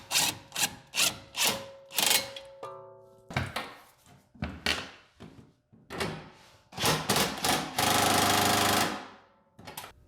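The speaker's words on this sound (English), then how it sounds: "I'm putting my impact here on the lowest setting. I'm just going to use this to snug them down" Impact wrench on its lowest setting snugging down the sway bar link nuts on a MK5 VW Jetta, with several short, loud rattling bursts close by, ending in a longer sustained run.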